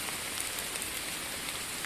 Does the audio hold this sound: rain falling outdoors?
yes